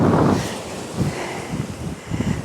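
Wind gusts across an open garden in October, buffeting the microphone with rushing, uneven roars that swell and ease repeatedly.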